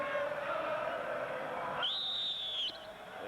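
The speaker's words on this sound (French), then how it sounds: "il y a eu un coup de sifflet de Michel Vautreau" A referee's whistle sounds at a farewell football friendly, France against a Rest of the World side: one sustained, shrill blast of about a second rising out of steady stadium crowd noise.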